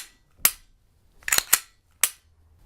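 A pistol slide being mounted on a Glock frame and function-checked gives four sharp metallic clicks and snaps, close and isolated, the middle two coming in quick succession.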